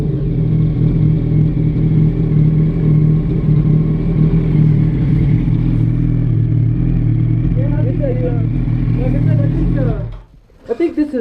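A 2007 Yamaha R1 sport motorcycle idles steadily with a loud, constant rumble, its drone running almost throughout before dropping away near the end, with faint chirping sounds partway through.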